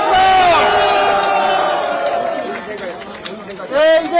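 A crowd at a Korean political campaign rally in Jinan cheers and shouts in welcome for a party lawmaker, a loud, dense roar that sits under an amplified voice calling out and then tapers off slightly.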